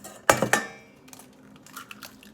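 A spoon or whisk knocks twice against a bowl as pancake batter with vanilla and eggs is mixed, followed by softer, quieter stirring scrapes.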